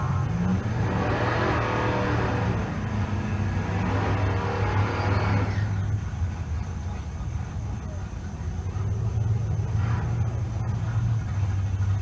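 A Chevrolet Monte Carlo drag car launches down a Pueblo, Colorado drag strip, a loud sustained engine roar with deep low rumble that holds steady, then drops back as the car pulls away, with an announcer talking over it.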